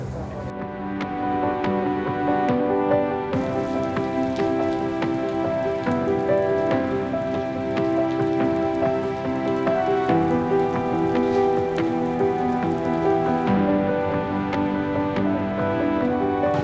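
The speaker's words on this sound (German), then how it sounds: "Ihr könnt sehen, es regnet immer noch." Heavy rain falls at the Nürburgring after a thunderstorm during a 24-hour race weekend, a dense, steady patter drumming on surfaces close by, with faint tonal background sounds running beneath.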